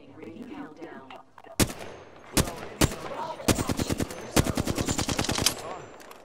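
Apex Legends gunfire starts with single sharp shots and builds into rapid automatic bursts, loud and close, with faint game sounds between them.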